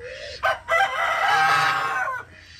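A rooster crows loudly and close by, one long drawn-out call lasting nearly two seconds after a couple of short clucks, with no talk over it.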